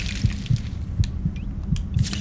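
Low-health heartbeat alert in the Fallout 4 video game, a steady thumping pulse of about eight low beats, roughly two per second, with faint game ambience above and no talk.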